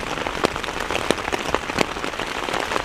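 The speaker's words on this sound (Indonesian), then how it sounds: "Hujan badai, teman-teman." Heavy rainstorm beating down on a forest campsite, a dense steady patter of drops with sharper taps landing close by, continuous and fairly loud with no voices.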